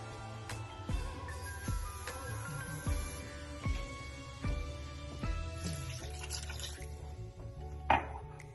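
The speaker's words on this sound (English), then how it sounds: "I'll add a little bit of water." Water is poured into a pot of Ghanaian palava spinach sauce, with drips, splashes and clinks of the pot and utensils in a quiet kitchen, no talk.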